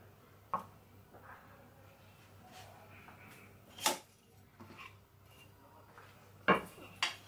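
A frying pan set down on a home stovetop while making egg-tortilla tostadas, heard as a few sharp metallic clanks and knocks spread over several seconds, fairly close, against a quiet kitchen background.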